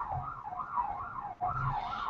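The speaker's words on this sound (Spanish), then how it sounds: "Ahí está pasando otra ambulancia." An ambulance siren wails in a steady rising-and-falling cycle with a brief break midway, loud and close over a low background rumble, with no talking.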